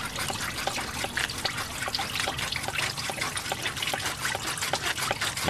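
Coolant fluid draining from the return line of a VW water pump during a grease car conversion, a steady trickling and dribbling stream of liquid, close and continuous with faint drips throughout.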